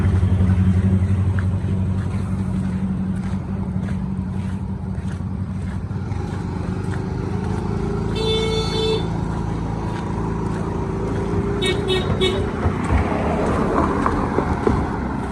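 Passenger cars drive onto a ferry at the port of Bajoe in Bone, with a low engine rumble and ship machinery drone, scattered clanks and a short high tone around the middle.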